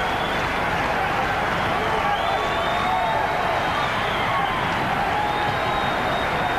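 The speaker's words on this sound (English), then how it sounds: "Crowd getting very involved in this one." A boxing match crowd, Virgil Hill against Joe Lasisi, roars in a steady, dense wash of cheering and shouting that fills the whole stretch, with a commentator's voice running faintly underneath.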